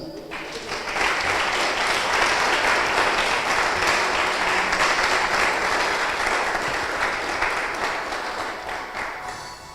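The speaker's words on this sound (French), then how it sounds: "Si tu es avec moi, tu peux acclamer le Seigneur." A church congregation applauds the Lord with sustained, dense clapping that swells early and holds steady at a loud level for about ten seconds, fading slightly toward the end.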